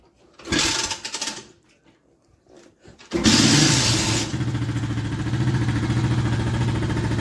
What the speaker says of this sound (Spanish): Y así se prende una motocicleta, bueno, obviamente pues pequeña